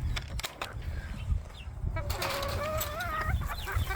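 Backyard chickens cluck and squawk nearby while being fed potatoes and carrot tops, a steady run of close calls with a short rising squeal partway through.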